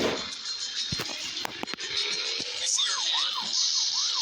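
A police siren in the Rope Hero Vice Town video game wails in a rising and falling pattern during the last second and a half, after scattered clicks and thumps over steady game engine noise.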